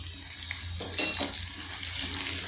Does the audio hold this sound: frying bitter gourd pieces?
yes